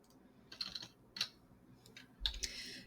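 Computer keyboard keys clicking in short, irregular bursts of typing, close and fairly quiet with brief pauses between clusters of keystrokes.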